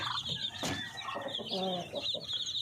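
Breeder chickens cluck and call near the mic, a busy run of short clucks and one longer drawn-out squawk, with the flock's steady background chatter underneath.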